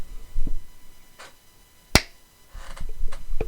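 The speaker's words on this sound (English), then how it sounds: "Alright, I'm gonna do another clap then" A single sharp hand clap to line up separate audio and video recordings, loud and isolated near the middle, with faint handling noises and shuffles around it.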